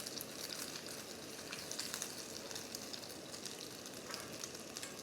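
Bacon frying on a Jetboil MiniMo titanium backpacking stove gives a steady, close sizzle with dense crackle and spatter, running evenly throughout without talk.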